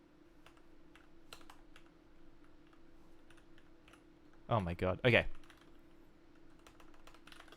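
Light, steady clicking from a new computer keyboard runs through the whole stretch at a close but soft level. Midway, a brief louder burst of voice cuts in over the typing.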